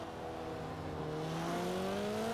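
In Forza Horizon 4, a Toyota Celica ST205 engine winds up steadily in pitch under full throttle on a top-speed run, a continuous near drone that swells slightly and ends in a short knock.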